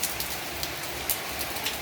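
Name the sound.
heavy rain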